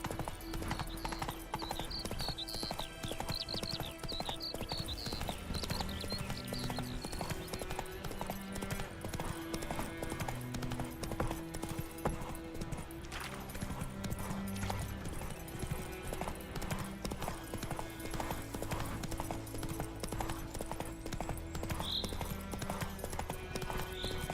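Roach the horse galloping in The Witcher 3, a fast rhythmic clip-clop of hooves throughout, with brief whinnies and a quiet game soundtrack underneath.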